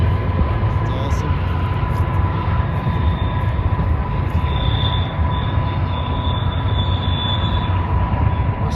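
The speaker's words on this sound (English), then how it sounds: "That train going by, guys." A train rolls past a historic ranch in the Kansas Flint Hills, a steady rumbling wash of wheels on rail close by, with a faint high squeal running through it and brief voices in the background.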